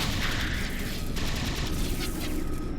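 Rapid automatic gunfire from a Halo 4 battle, a dense unbroken fusillade of shots against a grunt, loud and close throughout with no talk.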